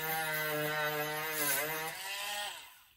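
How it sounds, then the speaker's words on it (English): A Dremel rotary tool with a wire brush dresses a soldered brass joint, giving a loud, steady high-pitched whine that dips briefly and then winds down at the end. "If I want to dress it up with a Dremel wire brush"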